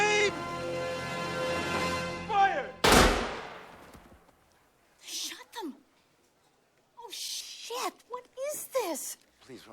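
A film's firing-squad volley of rifle gunfire erupts as one loud, sharp burst that rings off, framed by a voice shouting commands before it and scattered speech and sounds after.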